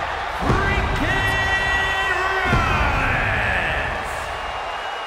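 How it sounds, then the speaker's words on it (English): A large crowd in the WWE 2K24 video game roars and cheers continuously at high volume at WrestleMania, with sustained tonal voices rising over the dense, steady wall of noise. "crowd is singing louder than ever on the grandest stage of them all"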